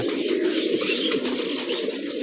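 Pigeons coo in their coop, a steady layered murmur of low throaty calls from several birds close by, with faint chirps above it.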